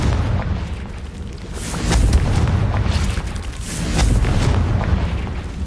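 A Confringo fire spell explodes in the video game Hogwarts Legacy, giving a dense, roaring blast with low rumbling bursts that swell and fade twice across the stretch, loud and close with no voices.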